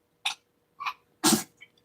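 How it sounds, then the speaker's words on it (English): A dog coughs in three short, sharp bursts, close by, with brief pauses between them, each one louder than the last. "My dog is over here coughing."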